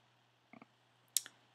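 A computer mouse is clicked while editing a PDF, two quick double clicks about half a second apart, faint and close against a quiet background hum.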